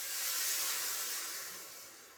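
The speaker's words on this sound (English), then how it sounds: "Evaporated milk, going in." Evaporated milk pours into a pan of crumbly mac and cheese, giving a steady, soft hiss that fades slightly toward the end, close and alone with no talk.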